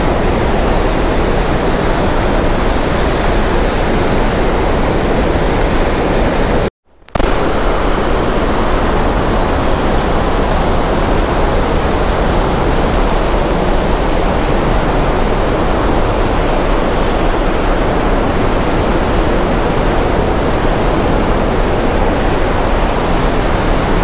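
Steady, loud broadband roar of Đắk G'lung waterfall (Thác 72) in the Central Highlands of Vietnam, heard up close at the base of the falls, continuous for the whole stretch apart from one very brief cut.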